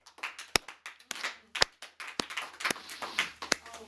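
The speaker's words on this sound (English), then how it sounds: "Everybody slow clap with me." A group slow-clapping, separate sharp hand claps landing in an uneven loose rhythm, about a dozen over a few seconds, with no talking between them.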